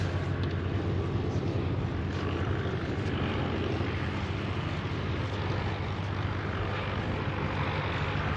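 A propeller airplane, a Russian- or Ukrainian-built type, droning steadily at close range with a loud, continuous engine and propeller roar at an airshow arrivals line.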